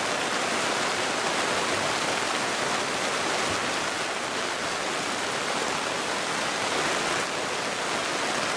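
Torrential rain falls steadily outside a countryside roadside stall in the Mekong Delta, a loud, unbroken roar of splashing water that surges slightly at moments, without speech.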